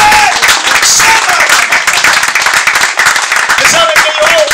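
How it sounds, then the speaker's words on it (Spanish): A church congregation claps loudly and continuously, with dense, close applause mixed with voices calling out and shouting praise throughout. "Fuerte el aplauso al rey."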